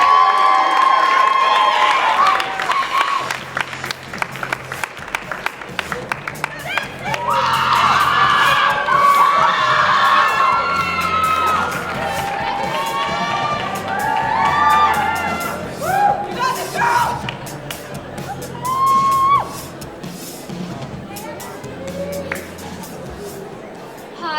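Audience applause and cheering from a crowd at a live music event: a dense, sustained wash of clapping, whoops and shouts, including children's voices, swelling loudly and continuing through the whole stretch with scattered chatter.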